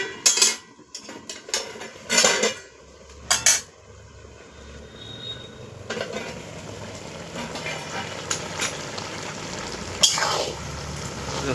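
A lid lifted off a wok where fish-head curry with Malabar spinach is cooking: a few sharp metallic clanks and knocks of lid and utensil up close, then a low steady simmer and sizzle with occasional clinks.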